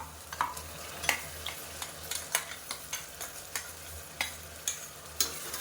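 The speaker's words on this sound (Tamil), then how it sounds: "சேர்த்துட்டு பச்சை வாசனை போகிற அளவுக்கு வதக்கி விட்டுக்கலாம்" Ground cashew, shallot and ginger-garlic paste sautéing for a chicken leg-piece gravy, with a steady low sizzle and a spoon repeatedly scraping and stirring the pan at an even rhythm, close and moderately quiet, with no talking.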